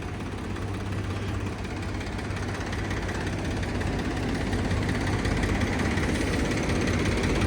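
A turbocharged tractor engine runs in Punjab, loud and close, with a constant heavy low rumble and a rough, slightly knocking texture that does not let up.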